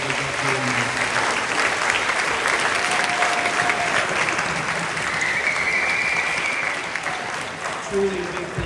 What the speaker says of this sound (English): Let us please give them all a round of applause